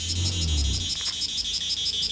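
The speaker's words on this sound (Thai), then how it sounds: "เสียงจิ้งหรีดอะครับลูก" Crickets chirping in a rainy-season mountain setting at Khao Kho, Phetchabun, a steady rhythmic pulsing trill that carries on throughout, moderately loud with no voices.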